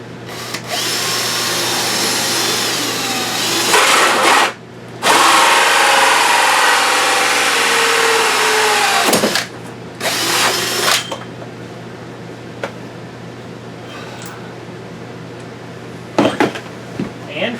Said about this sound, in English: I'm going to drill straight down through the hole I made out the bottom.